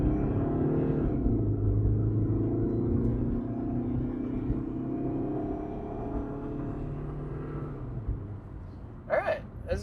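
A used car on a test drive, its low engine and road rumble steady and close throughout, with a brief clunk near the end.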